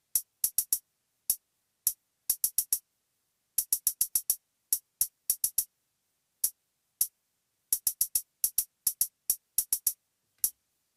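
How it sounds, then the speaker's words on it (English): A second hi-hat layer in FL Studio plays a bouncy, syncopated pattern of crisp short ticks in uneven clusters and doubles, separated by brief gaps of silence, dry and close. "We're going to be playing a more bouncy pattern."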